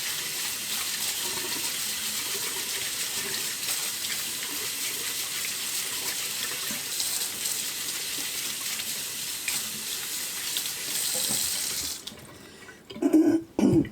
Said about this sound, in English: you can tell when you scrub it because the color changes